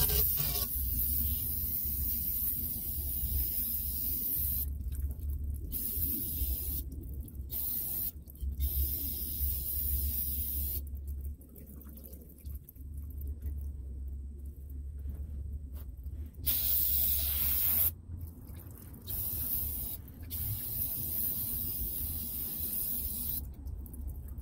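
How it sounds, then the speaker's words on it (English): Parts cleaner sprayed from an aerosol can into the axle housing of a 2016 Jeep JK, a long, loud, continuous hiss with brief breaks, close up and without talking. "we're just going to take our parts cleaner and we're just going to spray in through the fill"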